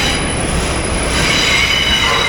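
A New York City subway 6 train's wheels squeal sharply as it loops around the track at City Hall, a loud continuous metallic screech over rumbling wheel noise.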